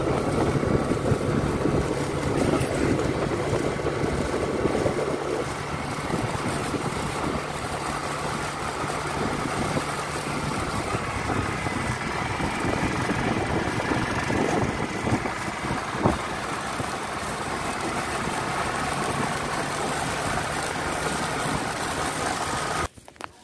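A motorbike engine runs steadily for the whole stretch, a loud continuous rumble with a faint buzz over it, then cuts off at the very end.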